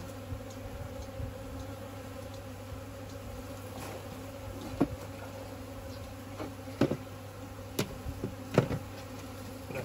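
Honeybees around a swarmed hive after treatment and feeder placement make a steady low buzz, with a few brief close knocks and clicks from handling the hive; no one speaks.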